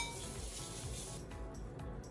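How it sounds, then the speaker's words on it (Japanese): Chicken sizzles in a home frying pan while a copycat recipe from a Disneyland restaurant is cooked. The frying is a quiet, steady hiss with faint crackles and no voices. "これをね焼いていきたいと思います。"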